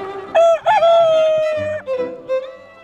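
A red-feathered rooster crows loud and close in a grassy meadow, one full drawn-out cock-a-doodle-doo with a rising start and a long sustained middle, followed by a few short clucking notes.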